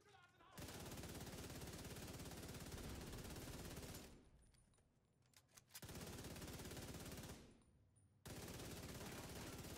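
Sustained automatic gunfire in The Division 2 comes in long, loud continuous bursts, twice dropping away into short quieter gaps before firing resumes.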